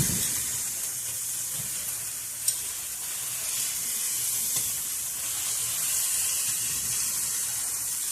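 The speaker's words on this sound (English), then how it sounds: "Okay, so I'm browning my ham." Ham browning in a pan for Cuban sandwiches gives off a steady, close sizzle with a bright hiss throughout, and one sharp pop stands out near the middle.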